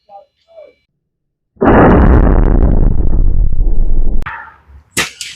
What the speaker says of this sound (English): Load up again and take another shot.